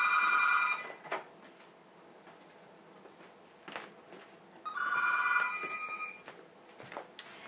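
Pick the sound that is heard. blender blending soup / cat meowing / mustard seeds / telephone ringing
telephone ringing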